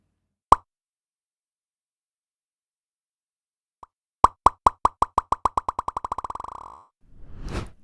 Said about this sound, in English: A great plugin for creative effects that can deliver up to 128 delay taps